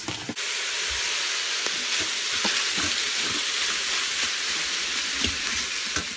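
Mushrooms with a sprinkle of salt sizzle steadily while browning in an Instant Pot, a dense continuous hiss with a few soft clicks of stirring, close and even throughout.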